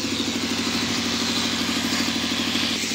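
A motor boat's engine chugs steadily with a rhythmic mid-pitched throb, holding close and continuous as the boat heads off, near the new Pamban railway bridge construction.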